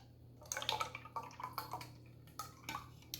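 Coconut milk pours into a small skillet in a few short liquid splashes and glugs, close and fairly quiet over a low steady hum.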